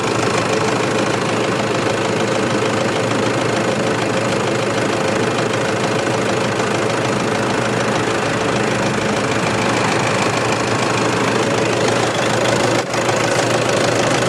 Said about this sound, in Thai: นี่คือเสียงเครื่องยนต์ไฮลักส์วีโก้แชมป์คร